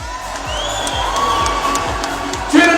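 A home crowd at a WBO Asia title boxing match in China cheers and applauds in support, a dense roar of voices and shouts throughout, swelling with a louder burst near the end.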